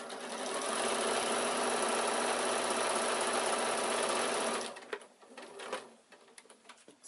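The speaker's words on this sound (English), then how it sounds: "start at one edge, sew to the corner, stop with your needle down, turn, and then sew to the point." A sewing machine stitches a quilted evening bag with a loud, steady, continuous whirr for nearly five seconds. It then stops, leaving faint scattered handling clicks.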